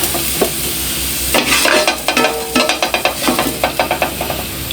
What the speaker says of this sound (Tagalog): at magigisa na tayo palagi kong piniprito yung patatas tsaka carrots ko